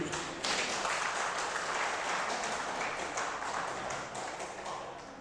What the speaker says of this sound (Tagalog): Isang malakas na palakpak muli.